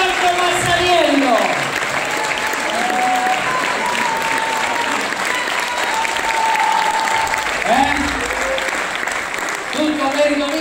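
An audience at a Voice 2023 talent event applauds a performer, with continuous crowd clapping running beneath a voice that talks over it for much of the stretch.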